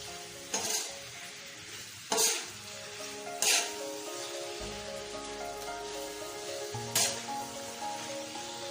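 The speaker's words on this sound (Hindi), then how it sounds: "अब इन सब चीजों को हम करेंगे मिक्स।" Spiced liver sizzles steadily on a hot tawa while being mixed, with four distinct scraping stir strokes spread across the steady frying hiss.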